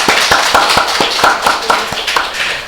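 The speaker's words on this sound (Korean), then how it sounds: "우리 박수로 환영합니다." A church congregation at a Sunday service claps to welcome a newcomer, a round of fairly rhythmic, evenly spaced hand claps that carries on steadily through the whole stretch, close and moderately loud.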